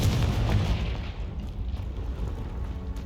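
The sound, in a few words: Confringo spell explosion from video game Hogwarts Legacy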